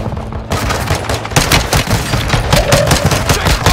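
Dense video-game gunfire in Call of Duty Warzone 2 Resurgence on Ashika Island, with rapid overlapping bursts and booming shots that start loud after a brief lull and keep going without letup.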